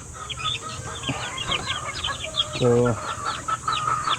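Many small chicks about three weeks old peep continuously at close range, with high chirps overlapping throughout and a brief louder call near the middle; a short spoken word is heard.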